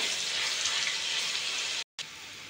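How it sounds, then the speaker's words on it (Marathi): Ginger garlic paste sautéing in hot ghee for paneer curry, a continuous close hiss of frying with a brief dropout near the end, otherwise steady and moderately loud. "मी ह्या तुपामध्ये थोडंसं आलं लसूण पेस्ट टाकून घेते। 2 ते 3 मिनिट हे थोडंसं परतवून घेऊया।"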